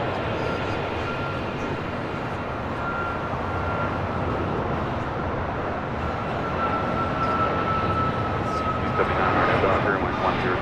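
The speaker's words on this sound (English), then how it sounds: "that is Delta Airlines Flight 1447 coming in from Minneapolis" Delta Airlines flight arriving from Minneapolis landing at LAX, a steady distant jet rumble that swells slightly near the end, with people talking over it.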